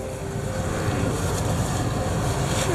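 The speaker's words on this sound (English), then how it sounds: "we're going to flush him out of there" Continuous loud hiss of a water spray flushing out the engine of a Honda NC700X motorcycle, close and steady with no break for the whole stretch.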